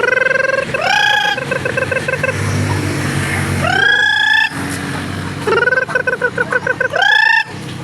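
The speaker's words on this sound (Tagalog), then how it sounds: "Ayan ang mga manok, mga makulit." Loud rapid clucking and squawking from chickens in bursts, with an engine rumbling in the background between the calls.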